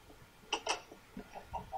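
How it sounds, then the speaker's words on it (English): A chicken in the video game Minecraft gives a few short, quiet clucks in quick succession, faint and close, with no talking over them. "Hello, chicken."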